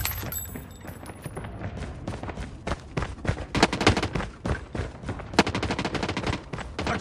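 Gunfire in a Call of Duty match: irregular bursts of sharp, loud automatic shots and single cracks, some nearer and some farther off, crowding together in the second half.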